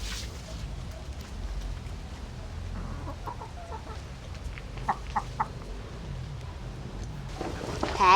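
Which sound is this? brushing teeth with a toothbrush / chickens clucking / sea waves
chickens clucking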